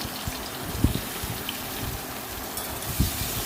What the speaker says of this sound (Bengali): সরষের তেল গরম হয়ে গেলে আমি এর মধ্যে নুন হলুদ চিনি মাখানো বেগুনগুলো